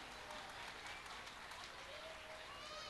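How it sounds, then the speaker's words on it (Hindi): Very faint, distant applause from the audience at a school annual day program for children, a continuous soft patter of many hands heard from far off at low level. "एक बार जोरदार तालियां आपके हाथों से हो जाए"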